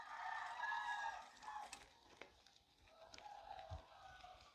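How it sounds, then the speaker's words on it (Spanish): Roosters crow along a town street in Mexico, with calls rising clearly at the start and then fading into softer, more distant crowing against light street ambience. "se escuchan los gallos"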